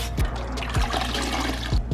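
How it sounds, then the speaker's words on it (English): Soapy water spraying onto a Toyota Celica car part, a hissing, splashing wash with a few short low thumps, close and fairly loud. "I got some soapy water. I'm just gonna spray it."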